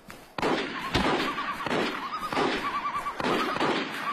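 Gunfire from a virus-outbreak video game rings out in sharp repeated cracks over a dense background of game noise, loud and close, with no speech.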